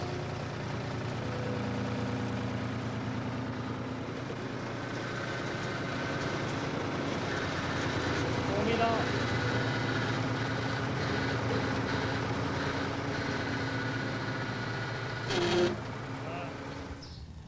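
A repaired farm tractor engine runs steadily at idle, a low rumbling drone nearby, with a short clank near the end and people talking faintly over it.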